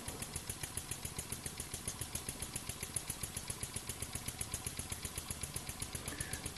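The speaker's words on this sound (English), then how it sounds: "That's the sign of a good steam engine when it can just chug over like that." A RW-BL1K steam engine fitted with a triple ratio drive pulley chugs over steadily, its fast regular puffs and clatter repeating evenly at moderate volume with no speech.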